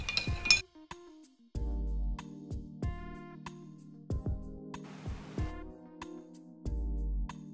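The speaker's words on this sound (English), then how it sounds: "Give it a stir." Ice clinks and rattles against the glass as a spoon stirs an Old Fashioned made with bourbon and Angostura bitters, giving a string of bright, close taps and chimes that ring briefly between short pauses.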